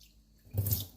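Rubbing alcohol poured from a bottle onto a grinder for cleaning: a short, close liquid splash and trickle lasting about a third of a second after a quiet start.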